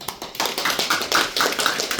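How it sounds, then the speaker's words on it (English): An audience at a business presentation in London gives a short round of applause, with brisk, rhythmic claps from a modest crowd close by. "So again, give a round of applause to Joanne."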